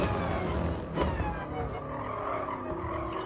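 A car brakes hard and skids with squealing tires during a Toyota, Subaru and Alfa practice race in a Spanish racing video game. Sustained engine drone, with a sharp burst near the start and tire scrub that trails off.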